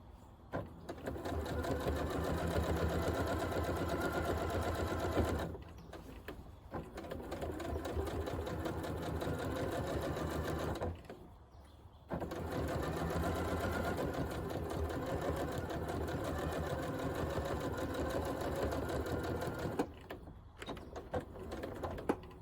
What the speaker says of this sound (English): We'll finish sewing down the top side of our binding.